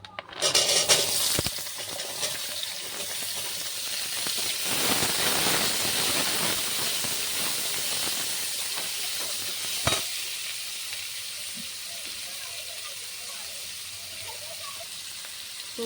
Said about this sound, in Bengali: এই তেলে আমি আলুটা দিচ্ছি।